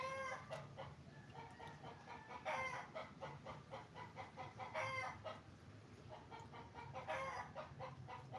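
Several chickens on a Filipino home farm cluck repeatedly with a rooster crowing in bursts, close and fairly loud, layered over a steady low background hum.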